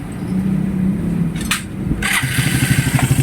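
A motorcycle engine after an engine refresh, 28,000 km on the odometer, idles steadily up close, its low throbbing pulse continuous, with a couple of brief higher rattling bursts partway through.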